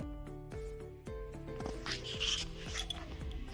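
Potato curry being stir-fried with spices and Kashmiri chilli powder, a spatula rasping and scraping steadily against the pan in repeated strokes, close and alone.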